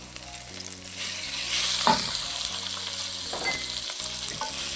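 Small chopped chicken pieces sizzle loudly in a hot pan while cooking cheese soup, a steady bright frying hiss with occasional stirring scrapes and spatters, no talk.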